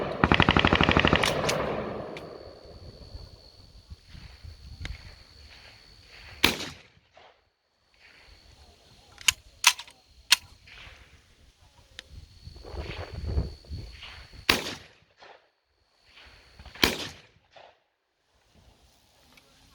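12 gauge shotgun firing at an outdoor range, a rapid string of loud sharp blasts at the start followed by scattered single shots spread out, some nearby and others more distant, with quieter range noise between them.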